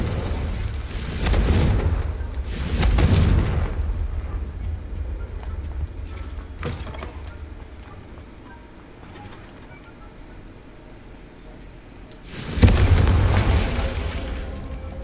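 Confringo explosion spells cast in a Harry Potter-style video game, several heavy booming blasts with a short sharp crack between them, loud and close, with a quieter rumbling lull in the middle.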